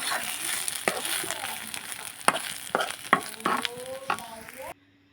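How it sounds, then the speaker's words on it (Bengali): A spatula scrapes and stirs a frying mix of egg and ash gourd (chal kumro) in hot oil, giving a steady sizzle broken by several sharp clatters against the pan before cutting out abruptly. "আমি ভালো করে ডিমটার ভাজিটা একসাথে মিশিয়ে নিচ্ছি"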